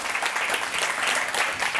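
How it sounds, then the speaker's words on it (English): An audience at a Montreal forum event claps steadily for the two speakers being welcomed on stage, a dense, even wash of hands without voices on top. "Please, a round of applause for Bree and Haley Hollingsworth."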